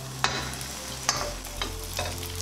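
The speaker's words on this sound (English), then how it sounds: "Once the oil is really hot, add in your egg and let it fry until it's done." An egg fries in very hot olive oil in a pan, a close crackling sizzle broken by a few sharp stirring clicks, with no talking.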